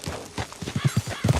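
A horse in the Red Dead Redemption video game gallops with a rapid, steady clip-clop of hooves and a neigh in the middle, close and fairly loud.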